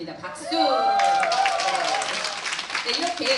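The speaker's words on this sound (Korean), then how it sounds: "박수." An audience at a business presentation applauds in a sustained burst of clapping, with a speaker's voice audible over it at the start.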